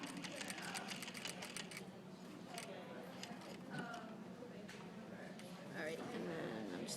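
A sewing machine stitches in quick bursts of rapid ticking, pausing and restarting, with a person's voice heard talking over it.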